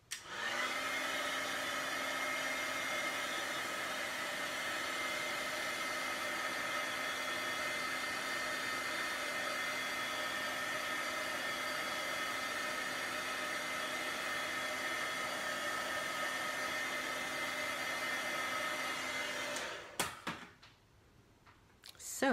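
A heat tool blows steadily for about twenty seconds to loosen glue, a close, even whooshing drone like a hair dryer, then cuts off abruptly, followed by quiet handling sounds.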